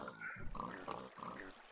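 A pig on a Minecraft 1.9 pig breeding farm gives a quick series of three or four close, nasal oinks in under two seconds.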